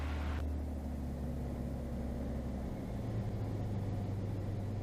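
A small airplane engine drones steadily at takeoff power, a loud continuous rumble with its pitch shifting partway through, heard from inside the aircraft.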